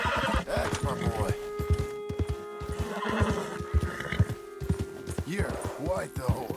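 A horse neighs and whinnies repeatedly in Red Dead Redemption 2, close up, while hooves clip-clop rhythmically underneath.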